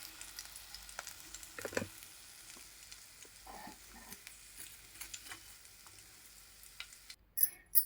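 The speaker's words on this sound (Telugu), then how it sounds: "కొద్దిగా పోసుకుని ఇలా ఫ్రై" Fish frying in a small amount of oil gives off a soft, faint sizzle with occasional light clicks and scrapes from the pan, heard close up with no talk and ending in a few louder knocks.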